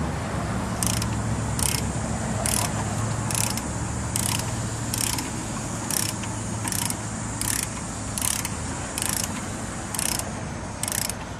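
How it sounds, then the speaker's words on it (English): A McGard propeller lock is cranked down toward its specified torque with a ratchet, producing a steady series of sharp, evenly spaced clicks over about eleven seconds, close and clear above a low mechanical background. "It's important to thread down the lock to the specified torque setting by the manufacturer"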